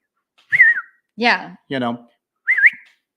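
Four distinct whistles in sequence, clear and fairly close, each a short rising-falling tone with brief gaps between; outdoors in the woods with quiet background.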